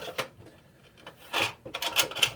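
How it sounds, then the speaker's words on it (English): An X-Acto knife trims excess plastic from small parts of a 1/700 scale Ticonderoga class cruiser model kit, giving a few short, close scraping strokes in quick bursts over near silence, with no talk. "You gotta really watch it when you're trimming off the excess plastic on these smaller pieces"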